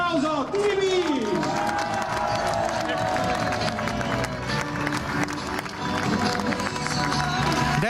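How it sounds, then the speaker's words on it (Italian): A crowd applauds and cheers for the Treviso Basket team at a celebration of its promotion to Serie A, with loud, continuous clapping and babble, while a voice calls out over the noise. "Grande applauso, TVB!"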